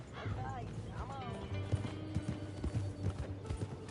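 Horse hooves in the video game Red Dead Redemption 2 clip-clop at a steady trotting rhythm, close and prominent, with a brief whinny near the start and people talking over the hoofbeats.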